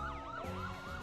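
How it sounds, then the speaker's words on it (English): A police siren wails in rising and falling sweeps, steady and fairly loud, over a continuous background bed with no voices. "The police siren from blocks away is wailing from far to near"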